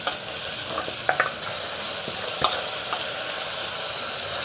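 Yogurt-marinated vegetables go into a pot for vegetable biryani, bringing a close, continuous sizzle with a few sharp clatters and scrapes of stirring.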